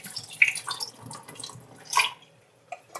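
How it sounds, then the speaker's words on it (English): Water draining off rinsed basmati rice in a pan, soft splashes and trickles with a few sharp drips, quiet and close. "and then just drain the water off"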